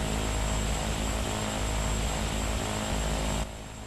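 A Porter propeller plane in a flight simulator roars through its takeoff run, a loud steady engine drone that drops sharply in level near the end.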